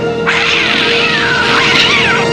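Cartoon cats meow and caterwaul in a loud, continuous, overlapping chorus of wavering, high-pitched cries that run almost the whole time over a steady tone.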